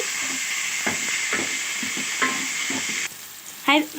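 Tomatoes hit a pan of browning onions with a loud, close sizzle. A spoon scrapes and clatters in a few stirring strokes before the frying drops to a quieter hiss.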